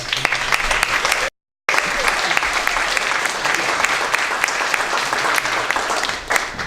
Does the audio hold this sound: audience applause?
yes